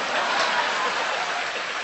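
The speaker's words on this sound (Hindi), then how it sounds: "इधर से तालियां कम बज रही हैं" Audience applause at an event, a steady, dense wash of clapping from a crowd sustained evenly throughout without any voices on top.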